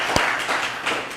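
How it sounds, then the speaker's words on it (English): An outdoor audience gives a soft golf clap at a service-dog graduation in the rain. It is a short spell of light, scattered clapping over steady background noise. "We'll do some, like, golf clap."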